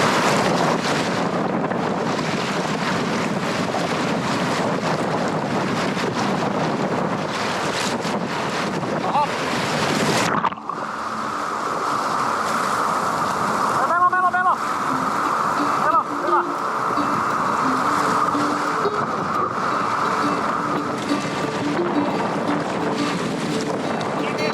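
Munnikurkkio rapids on the Poroeno-Lätäseno river roar with a steady, loud broadband rush that fills the whole stretch, with wind buffeting the microphone and a brief shift partway through.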